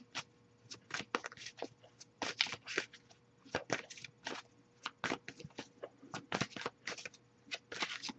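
Tarot cards being shuffled in quick, crisp riffles and taps, up close and quiet, repeating in an uneven rhythm.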